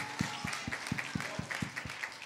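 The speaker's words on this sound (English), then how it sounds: "Give a round of applause for both teams." A small audience at a Sunday school sword drill competition claps for both teams, a sparse, fairly even run of individual claps with steady low thuds, moderately loud.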